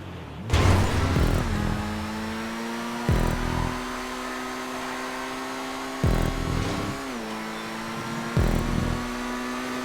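An Annis S80RR in GTA 5 Online revs hard through a Vespucci hot lap, its engine pitch climbing and then dropping at four evenly spaced gear shifts. The sound is loud and steady throughout, with no talking.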